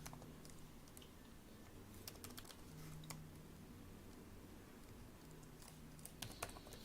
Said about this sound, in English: Let me type it here.